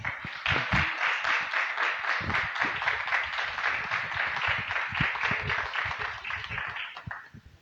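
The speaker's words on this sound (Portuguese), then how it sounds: "louvando a Deus com as nossas palmas" A church congregation claps in praise to welcome a guest speaker at a morning service. Sharp individual claps stand out in an uneven rhythm over a lively crowd texture, then fade out near the end.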